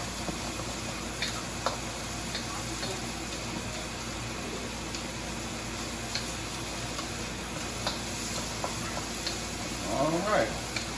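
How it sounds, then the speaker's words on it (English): Shrimp fry in a hot wok with a steady, soft sizzle, broken by light, irregular ticks and scrapes as they are stirred, and a louder clatter near the end. A voice is faintly heard under it. "Those shrimp stirred up."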